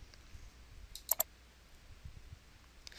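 Two quick computer mouse clicks in close succession, crisp and near against a quiet background.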